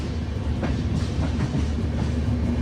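Amarapur Aravali Express rumbling at Sri Ganganagar station, a steady loud low roar of a passing train with faint rhythmic clatter of wheels, close by, with no talking.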